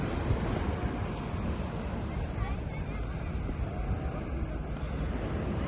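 Ocean waves at Atami wash in as a steady, dense surf roar, with wind buffeting the microphone throughout and no pauses between breakers.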